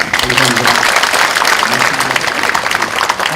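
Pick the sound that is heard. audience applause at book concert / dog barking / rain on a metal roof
audience applause at book concert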